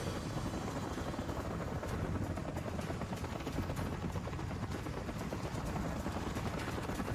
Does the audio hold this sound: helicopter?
yes